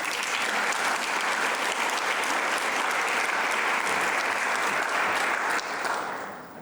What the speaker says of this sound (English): May I ask for a round of applause for them, please?